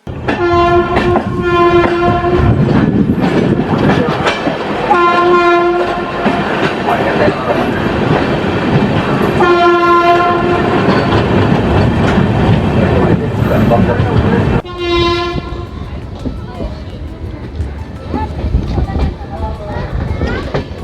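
A train horn sounds in repeated long blasts over the steady rumble of the Malda–Bangalore Amrit Bharat Express slowly passing Khana Junction, India, with a final blast near the end.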